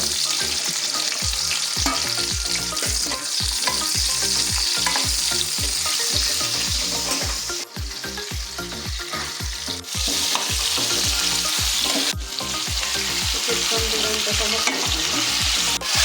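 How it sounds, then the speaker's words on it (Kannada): Onions frying in hot oil with mustard seeds for a tempering, stirred steadily: a continuous loud sizzle broken by rhythmic scraping strokes of a spoon in the pan, with no talking. "ಇದಕ್ಕೆ ಒಗ್ಗರಣೆ ಸ್ವಲ್ಪ ಈರುಳ್ಳಿ ಹಾಕಬೇಕು"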